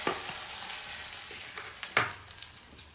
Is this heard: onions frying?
yes